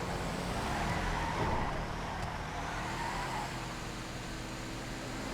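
Vetia car driving in the video game GTA FiveM, a steady, moderately quiet engine drone with road noise that holds evenly throughout with no talking.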